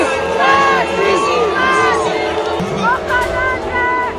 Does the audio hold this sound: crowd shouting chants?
yes